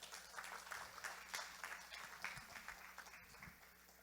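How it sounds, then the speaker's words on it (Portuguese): Church congregation applauding in a worship service, a fairly faint and scattered patter of claps lasting throughout with no talk over it. "vamos receber com um aplauso a vida do nosso professor Ademar"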